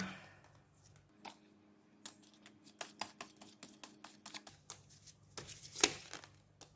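Tarot cards riffle and tap in quick bursts of soft flicking and slapping, close by, with brief pauses between shuffles and no talking.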